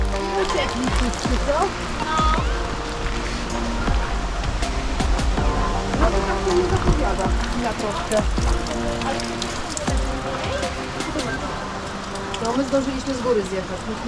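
Steady rain pours down at a gondola lift station in Solina, a dense hiss of drops on surfaces, with people talking intermittently beneath it.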